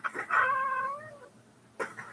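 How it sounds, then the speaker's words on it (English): A pet cat lets out one clear, drawn-out meow, close and fairly loud, followed by a pause and the start of another short vocal sound. "I love the way he meows."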